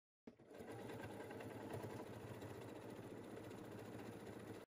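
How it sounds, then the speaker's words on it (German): A sewing machine runs steadily for about four seconds, stitching a drawstring channel onto a sling bag, with a close, continuous motor hum and no pauses or talking. "Der Tunnelzug wird nun auf die Tasche genäht."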